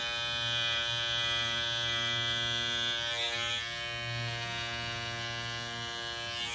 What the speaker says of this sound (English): you can come back and shave some more around there, carve between those two colors